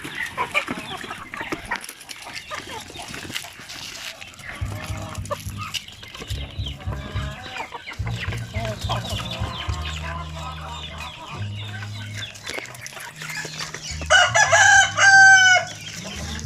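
Hens cluck steadily in a poultry yard, with a single loud rooster crow rising near the end over the low, continuous clucking.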